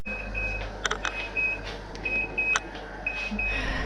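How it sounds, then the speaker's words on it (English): A kitchen timer alarm beeps in repeated short bursts beside a pressure canner, the regular tones standing out over a steady low hum and a busy background. "so my alarm's going off"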